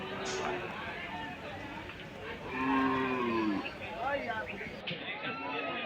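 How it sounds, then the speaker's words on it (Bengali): Cattle at a crowded cattle market held before Eid al-Adha, lowing in long, deep moos that rise over a steady hubbub of chattering people close by. "দেখতেই পাচ্ছেন বন্ধুরা, খুব সুন্দর সুন্দর গরু এখানে আছে।"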